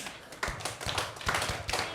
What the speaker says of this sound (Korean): 칭찬 박수 한번 해볼까요?